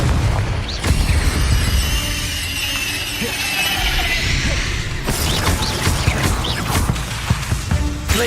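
Confringo fire spell explosions in Hogwarts Legacy, a heavy booming blast with rumbling debris and crackling bursts, loud and close, followed by more impacts amid combat effects.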